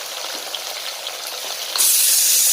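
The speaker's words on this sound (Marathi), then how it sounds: "बटाटा आणि वांगा बारीक चिरलेला आहे, टमाटा घालत आहे" Chopped tomatoes dropped into a hot pan of finely cut potato and eggplant, a steady close sizzle that jumps suddenly louder and brighter near the end as the tomatoes hit the oil.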